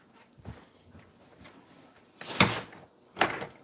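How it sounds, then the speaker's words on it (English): A door being pushed shut makes a couple of soft bumps and then two sharp, close knocks of the door closing. No one talks. "I'm actually going to shut this door."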